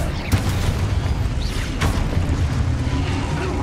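A Confringo fire spell bursts in Hogwarts Legacy combat, a dense roaring explosion with sharp cracks near the start and middle, loud and continuous over rumbling game noise.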